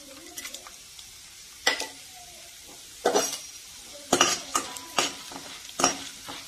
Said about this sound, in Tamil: நம்ம எடுத்து வச்சிருக்கிற உளுத்தம்பருப்பு கடலைப்பருப்பையும் அதில் போட்டுக்கலாம். போட்டுட்டு வறுத்துக்கலாங்க.